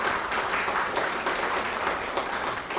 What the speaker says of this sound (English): So please, another huge round of applause for Mr. Tudehope.